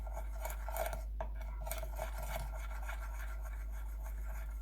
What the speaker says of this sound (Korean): 설탕은 얇게 깎아서 1스푼을 넣어서 설탕이 충분히 녹을 수 있게 잘 저어 줍니다